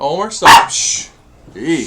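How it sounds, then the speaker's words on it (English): A dog barks sharply in an indoor room, one loud bark between short whines, while a person nearby tries to hush it. "Sorry for the barking."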